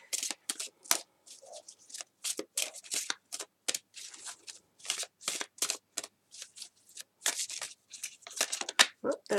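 An Earth Magic Oracle deck being shuffled, with quick, crisp riffling card flutters repeated in close succession and short pauses between bursts, close up and fairly quiet, with no talking.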